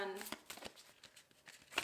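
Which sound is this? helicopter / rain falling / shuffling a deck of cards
shuffling a deck of cards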